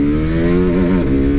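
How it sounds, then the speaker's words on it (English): A TVS motorcycle engine revs hard in sport mode, a loud, steady, close mechanical drone with pitch wavering briefly as it accelerates. "revving the motor, and off we go"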